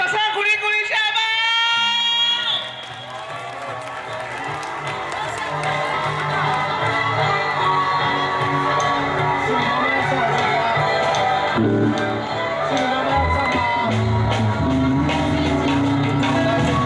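An audience at a New Year's Eve band concert breaks into sustained applause and cheering, a dense, steady wash of clapping with scattered shouts and voices mixed in.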